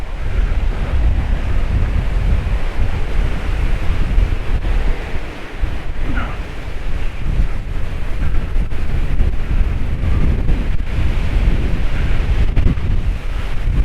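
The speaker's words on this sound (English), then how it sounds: "God, it's getting windy." Strong wind buffets the microphone on a walk near Paphos bar street, a loud continuous low rumble with gusty surges and no talking.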